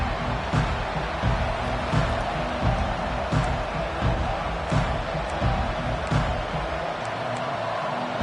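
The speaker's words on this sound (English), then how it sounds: "This crowd trying to show them what it's going to be like all day in this house" A large stadium crowd roaring at an Ohio State vs Notre Dame college football game, a dense continuous wash of cheering, loud and distant-sounding, with faint thuds scattered through it.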